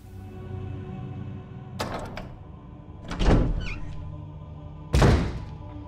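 A door opening in the video game Resident Evil Remastered, heard as a few separate dull thunks and scrapes over a low background hum, with no voices.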